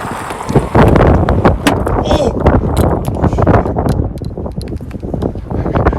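Strong gusting wind on an island in Iceland, buffeting loudly and close with rough, unsteady rumbling bursts across the whole stretch, a voice speaking over it.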